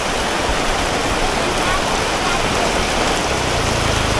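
Heavy rain pours steadily at an outdoor market in Nha Trang, a dense, loud, continuous hiss of water drumming on surfaces with no break across the whole stretch.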